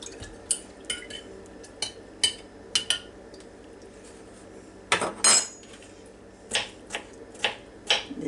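Metal utensils clink and scrape against a bowl while tossing a rotisserie bread and butter salad with chopped pickles, a steady run of sharp, close taps and knocks with no talking.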